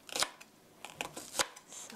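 A knife slices a green onion on a cutting board for tomato soup: a few crisp, separate chopping taps, close and fairly soft, with quiet pauses between them.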